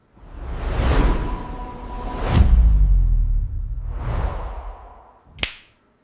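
A sharp snap sound effect for an AI-generated Nike logo animation, preceded by airy whooshes and a low boom, with a final crisp, close snap near the end.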